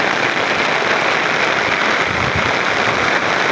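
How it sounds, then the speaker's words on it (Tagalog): Steady rain falls at a terminal in Biliran, a dense, even hiss of drops with no other voices or distinct sounds standing out across the few seconds. "Malamig dito kasi umulan guys."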